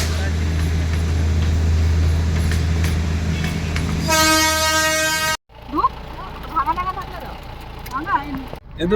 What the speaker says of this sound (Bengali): ওই টয় ট্রেনই আসছে না ওই